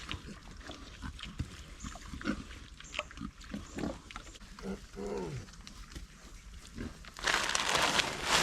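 Pigs on pasture paddocks grunting and squealing in scattered bursts at moderate distance, with a rustling, crinkling noise rising near the end.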